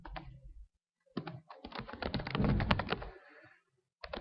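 Quick bursts of typing on a computer keyboard while entering Java code, close and fairly quiet clicking in irregular runs with short pauses.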